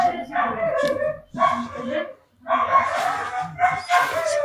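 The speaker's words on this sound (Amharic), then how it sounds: "ውሻ እየጮኸ ነው" A dog barks in several loud, close bursts with short pauses between them.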